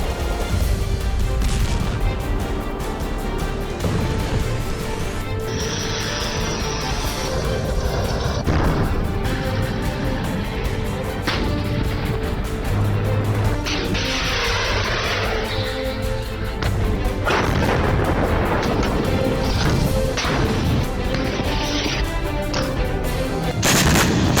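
Gunfire and heavy weapons from a Chinese Norinco group demonstration of export arms, with dense, loud bursts of shots, booming blasts and rattling automatic fire running continuously and overlapping for over twenty seconds, no talk heard.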